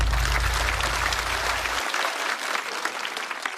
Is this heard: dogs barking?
no